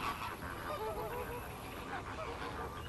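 A dense flock of flamingos calls non-stop at a wetland feeding site, a steady honking, goose-like chorus of overlapping squawks at moderate distance with no pauses.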